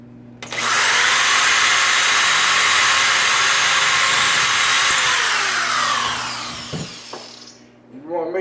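Drilling a knob hole through a kitchen cabinet door with a homemade template: a loud, sustained drill whine holds for several seconds, then winds down, followed by a few knocks and handling clatter.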